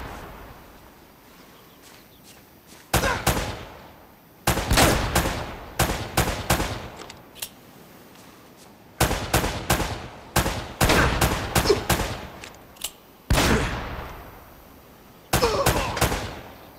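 Gunfire in Uncharted: Drake's Fortune Remastered on PS5, with repeated loud bursts of automatic and single shots in clustered volleys separated by brief lulls of quieter ambience.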